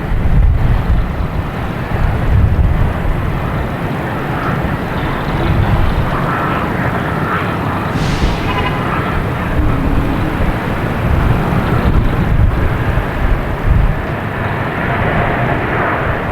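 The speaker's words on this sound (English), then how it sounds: "Coming in from Houston, the A220." Airbus A220 airliner arriving at Boston Logan Airport, a loud broad jet roar with heavy wind buffeting on the microphone, sustained throughout with a brief rising whine midway.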